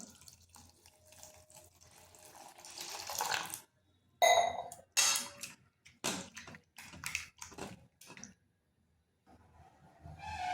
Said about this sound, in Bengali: আলুটাকে 3 থেকে 4 বার ভালোভাবে ধুয়ে নিচ্ছি